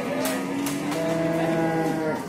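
Cattle at a livestock market in Prambanan, Klaten, give a long, loud mooing call, close by, over a low background murmur.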